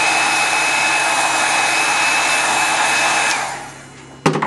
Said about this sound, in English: Heat gun to heat it up and reactivate it.